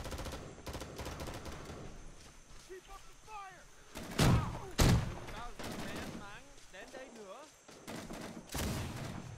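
Gunfire in Rising Storm 2: Vietnam, with sharp double-barreled shotgun blasts and pistol shots cracking among scattered battle noise, two loud close reports midway and another near the end, under someone speaking.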